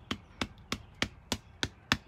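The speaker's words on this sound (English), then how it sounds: "I call this the body hammer or the meat tenderizer" Seven evenly spaced, thudding taps from a meat tenderizer used as a body hammer, struck on the body about three times per second, close and fairly loud with no talking.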